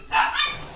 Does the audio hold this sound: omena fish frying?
no